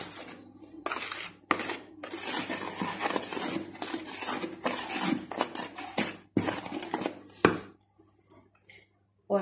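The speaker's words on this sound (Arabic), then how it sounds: "كل المكونات الجافة هنقلبها مع الدقيق زي ما انتم شايفين كده" Dry ingredients are turned together with flour in a bowl for soft round cakes, giving close, dense scraping and rustling strokes in uneven bursts with a few short pauses.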